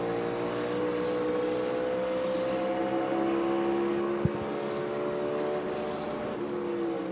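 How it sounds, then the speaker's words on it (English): A NASCAR Cup Series car held in fourth gear during practice at Phoenix drones steadily against its rev limiter, a loud, continuous, buzzing engine note with slowly drifting pitch and a single sharp click partway through. "Hear that rev limiter on Chris Buescher's car right there."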